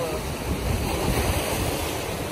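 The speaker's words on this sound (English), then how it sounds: "The big waves." Steady roar of big ocean waves washing in on Grand Anse beach among large boulders, with wind buffeting the microphone; a continuous, loud wash with no distinct breaks.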